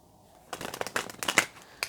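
Tarot cards being handled and shuffled, a burst of quick papery riffles and flicks following a short quiet start, close and crisp.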